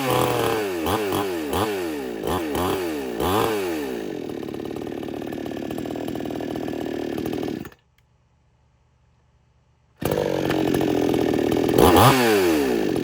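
An electric chainsaw sharpener whines up to speed with rising pitch sweeps, runs loud and steady, cuts off into a brief silence, then starts again, close and alone.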